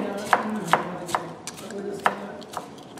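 Eggplant sliced with a knife on a cutting board during ratatouille prep, giving about six crisp, evenly spaced chopping knocks close by.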